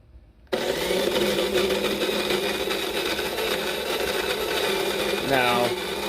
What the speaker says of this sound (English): I have heard some complaints about grinders being noisy.